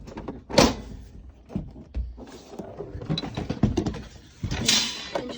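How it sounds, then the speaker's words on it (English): Drawers are pulled out of a storage unit, giving a series of scraping slides and light clattering knocks at an uneven pace, close by and fairly loud, with no one talking. "We just gotta grab the drawers out."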